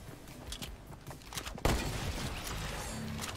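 Gunfire in a shooter video game where the player takes a shotgun hit: scattered shots at a distance, then a sudden loud blast followed by sustained noisy rumble.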